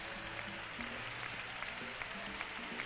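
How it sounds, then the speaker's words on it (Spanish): Church congregation applauding during a Pentecostal service, a soft, steady clatter of many hands blended with a low background hum and sustained tones, quiet and somewhat distant. "Oh, no sé si quiere elevar ese aplauso a Jesús esta tarde,"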